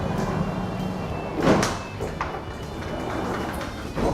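Tall pocket doors in an open plan kitchen at a London interior design store slide along their track with a rolling rumble, a firm thud midway and another knock at the end.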